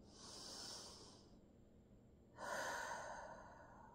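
Slow belly breathing from a person lying on the floor: a soft, close inhale or exhale, a pause, then a second breath that is stronger and airier, with no talking.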